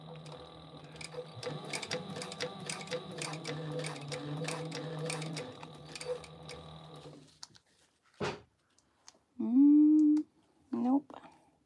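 A sewing machine stitching clear TPU vinyl runs in a fast, even mechanical rattle for about seven seconds, then stops, followed by a thump and brief talk.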